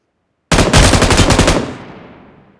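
A loud, rapid burst of automatic gunfire from the BGMI battle royale game, about a dozen close shots in a quick rhythm that stop abruptly and leave a fading echo tail.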